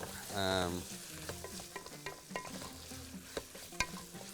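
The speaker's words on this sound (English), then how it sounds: "We keep stirring it." Food frying in a pan is stirred with a utensil, giving a steady close sizzle under repeated scraping and tapping strokes, with a brief tonal squeak near the start and no speech.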